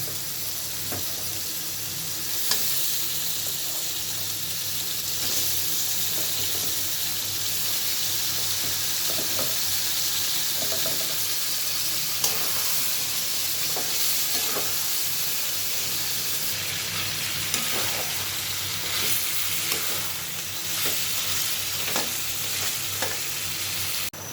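Duck meat frying in a spice paste of ground garlic and ginger, a dense continuous sizzle and hiss with occasional scraping stirs, close and steady throughout with no speech.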